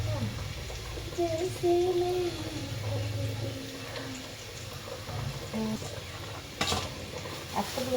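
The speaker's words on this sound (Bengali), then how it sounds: "লম্বা করে আলু ভাজা বসিয়েছি আলু ভাজাটাও হয়ে গেছে" Long potato strips fry in a pan with a continuous sizzle and stirring scrapes, while a person talks over the cooking throughout.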